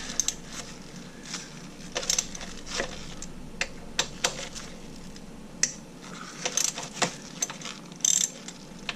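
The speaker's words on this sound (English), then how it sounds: "loosen these two pinch bolts like I mentioned" Pinch bolts on a Ducati Hypermotard 821 swingarm loosened during chain tension adjustment. A ratchet clicks and taps repeatedly at close range, with metallic tool clatter in irregular bursts.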